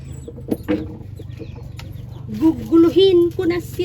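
Chickens and small chicks cluck and peep close by in a short burst of farmyard noise, with a louder hen call near the end and a faint voice in the background.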